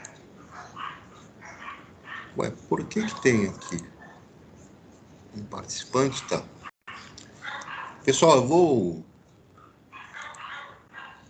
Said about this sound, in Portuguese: os cachorros estão fazendo uma revolução aqui na rua